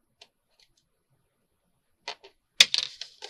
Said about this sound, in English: we get that little point and cut it off